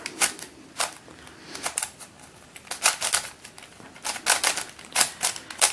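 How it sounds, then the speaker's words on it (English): Rapid clicking and clacking of an ice orange Witeden 3x3 Mixup puzzle cube, stiff and not yet broken in, being turned in bursts of sharp plastic snaps at close range. "Let's see what the turning is like."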